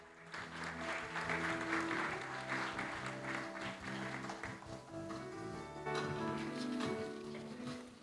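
An audience applauds at the opening ceremony of a business forum to welcome the Seoul mayor onstage, with sustained clapping under steady music.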